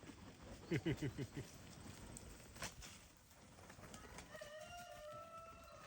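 Farm geese let out of their pen give a quick burst of honking calls early on, then fade into quieter outdoor ambience with faint scattered sounds.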